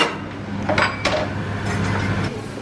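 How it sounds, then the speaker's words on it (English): A knife works through tomatoes for tacos in a home kitchen, a run of soft close taps and clinks against a board with a few sharper knocks, steady and moderately loud, with no talking. "So Jackie's cutting up the tomatoes"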